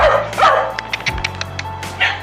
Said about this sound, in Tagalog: Kukulit ng mga aso namin.